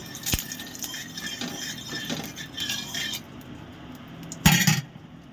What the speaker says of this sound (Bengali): কড়াটা একটু নেড়ে নেব।